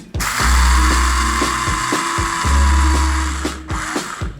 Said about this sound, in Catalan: el que vaig a fer és moldre-les en este molinet